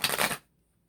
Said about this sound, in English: I'm just giving it a couple shuffles just so you guys can hear it.